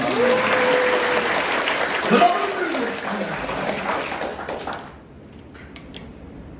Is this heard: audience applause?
yes